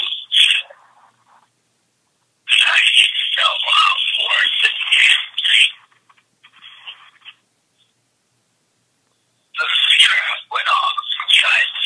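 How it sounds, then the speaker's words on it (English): Bursts of bright, high electronic beeping or chirping tones, loud and close, coming in several clusters separated by silence. "What the heck was that beep?"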